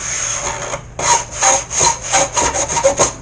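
A sanding block rubs back and forth on wood of a cracker box kit, a close, loud series of rasping strokes in a quick, uneven rhythm after a brief steadier pass.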